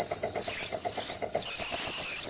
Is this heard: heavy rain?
no